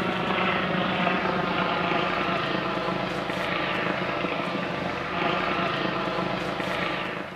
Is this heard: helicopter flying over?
yes